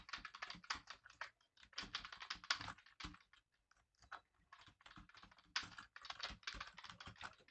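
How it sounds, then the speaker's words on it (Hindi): Hindi text is typed on a computer keyboard in rapid bursts of close, crisp key clicks, with brief pauses between runs of keystrokes. "इस प्रकार से हमको टाइपिंग करना पड़ेगा।"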